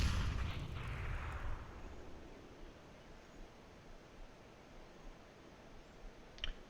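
A grenade blasts in a first-person shooter video game map: a loud burst at the start decays into a long, low rumbling tail, followed by a brief sharp crack near the end.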